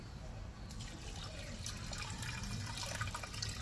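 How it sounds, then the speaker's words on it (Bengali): Water pours steadily into a clay pot for a winter-vegetable rice porridge, a soft continuous splashing trickle heard close and fairly quiet with no talking. "এর মধ্যে দিয়ে দিচ্ছি জল।"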